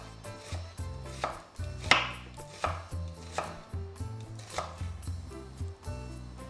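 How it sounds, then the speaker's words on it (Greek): A knife chopping an onion, halved first, on a board, with a steady run of close, crisp, evenly spaced cuts. "Κόβουμε στα 2"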